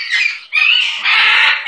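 Pet bird squawking loudly up close, three harsh, drawn-out calls in quick succession.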